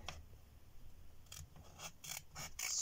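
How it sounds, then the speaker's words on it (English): Several crisp snips of scissors cutting paper for an origami playing card, close and quiet, spaced unevenly with short gaps between cuts. "You just want to cut that line there that you just done"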